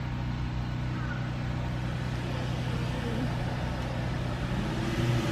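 A FedEx delivery truck passing by, a steady broadband road rumble and engine drone, moderately distant and fairly constant, without talk over it.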